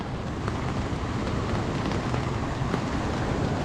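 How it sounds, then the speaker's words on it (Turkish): Continuous soft hiss of light December rain falling on surfaces in Datça, with a faint breath of wind and no voices. "Yağmur da atıştırmaya başladı."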